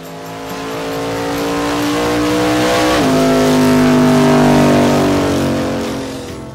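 A 1970 Nova with a 408-cubic-inch single-carburetor small block Chevy, run on a chassis dyno, revs up loud and close, its pitch climbing, shifting once and building to near 7,500 rpm before easing off.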